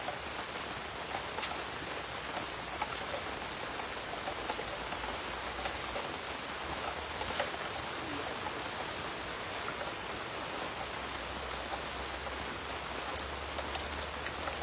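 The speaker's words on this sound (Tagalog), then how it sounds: "Sayang, inabot tayo ng ulan." Steady rain patters on an old, worn tarpaulin full of holes at an outdoor fishing spot, a dense even hiss of drops with occasional louder taps, continuous throughout with no voices.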